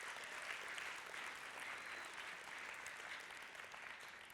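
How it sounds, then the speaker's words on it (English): An audience at a youth church service claps steadily, a dense, fairly quiet patter of many hands that continues evenly throughout. "you can go ahead and clap. I know some of you want to."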